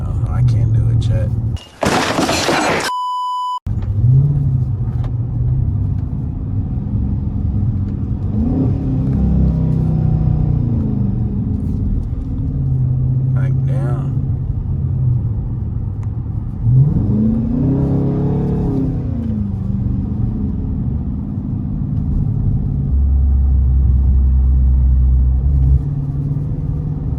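A new car drives along a two-lane road below the speed limit, its engine and tyre rumble steady and close throughout, with a brief loud electronic tone near the start and people talking over the drive.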